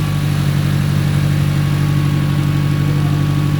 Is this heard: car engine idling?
yes